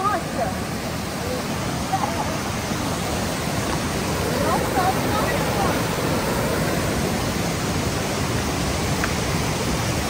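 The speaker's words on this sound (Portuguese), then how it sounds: "Aqui o áudio vai ficar um pouco ruim por causa do barulho. O barulho da água." A farm waterfall roars with rushing water, a dense, steady broadband wash that stays loud and unbroken throughout, close by and drowning out most other detail.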